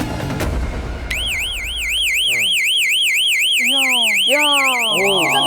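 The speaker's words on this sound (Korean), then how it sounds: "이제 호신용 경보기가 얼마나 소리가 큰지 직접 들려드리겠습니다." A personal safety alarm starts suddenly and wails continuously in a rapid, piercing electronic warble, very loud, while a voice talks underneath.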